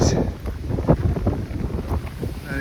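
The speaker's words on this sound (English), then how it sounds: "But it's still mighty windy" Strong coastal wind on the Camino de Santiago between A Picota and Cee buffets the microphone in a constant low roar with gusty surges, no voices.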